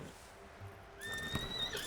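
A horse neighs and whinnies in Red Dead Redemption 2, a clear rising call in the second half over soft hoof clip-clops and quiet outdoor ambience.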